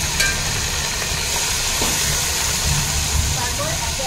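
Minced meat goes into browned fried onions in a hot pan, giving a loud, steady hiss of sizzling that holds evenly from start to finish, with a voice speaking over it.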